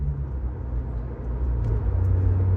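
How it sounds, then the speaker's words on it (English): A car being driven, heard from inside as a steady low engine and road rumble that holds constant, then thickens slightly toward the end, with no one talking. "This car is just way too fun to drive"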